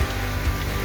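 Rain falling steadily during the rainy season, a dense, even wash of patter with no voices, close and continuous for the whole short stretch.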